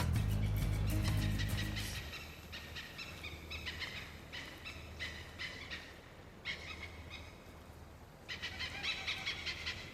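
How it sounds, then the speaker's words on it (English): Birds call repeatedly in short bursts across Phang Nga Bay, Thailand, bright chirps fairly near, after a brief loud low rumble at the start. "birds flying around making incredible noises"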